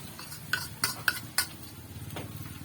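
A spoon scrapes and taps through beaten egg in a frying pan, four or five distinct clinks over a soft background sizzle, close and fairly quiet.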